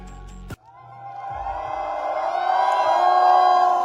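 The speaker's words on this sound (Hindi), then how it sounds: "जोरदार ताली, दोनों हाथ ऊपर।" An auditorium crowd at a corporate event cheers and whoops in a rising swell after a sharp bang, the noise growing louder and fuller over a few seconds.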